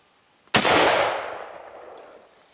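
A single rifle shot fired while hunting an oryx cracks sharply out of near silence, then rolls away in a long, fading echo across open country.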